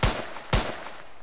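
Two sharp gunshots about half a second apart, each fired from a weapon in an Unreal Engine 4 shooter template video game. Both are loud and close, each with a short decaying tail, and no voices are heard.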